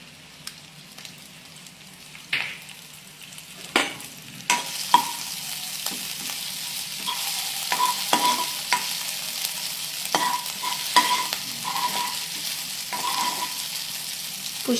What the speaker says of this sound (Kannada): ಇದಕ್ಕೆ 1 TBSP ಅಷ್ಟು chilli garlic ginger paste add ಮಾಡ್ತಾ ಇದ್ದೀನಿ